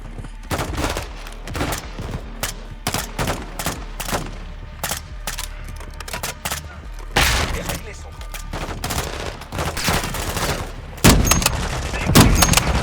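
Covering gunfire during a firefight in the Call of Duty Modern Warfare 2 campaign, with dense, rapid bursts of automatic fire and loud cracks piling up continuously, heavier impacts near the end, and a voice talking underneath.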